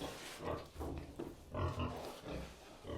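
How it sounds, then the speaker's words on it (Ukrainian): Pigs grunting and snorting close by in repeated bursts, several animals overlapping with short pauses between. "Так, зараз подаємо свиням."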